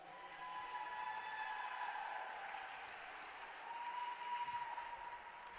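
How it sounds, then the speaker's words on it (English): Spectators at a teen bowling championship give a round of applause, heard as a soft, continuous wash of clapping from across a large hall, faint and distant throughout. "Let's give them a round of applause."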